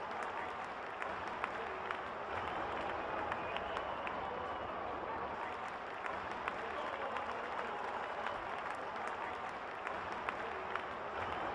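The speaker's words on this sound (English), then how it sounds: "Crowd is going crazy." Stadium crowd at an IPL T20 cricket match between SRH and KKR roars and applauds after a six, a dense, sustained wash of cheering and clapping that stays loud throughout with scattered claps and shouts poking through.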